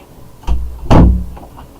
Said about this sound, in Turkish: Arkadaşlar kusura bakmayın kapı seslerinden.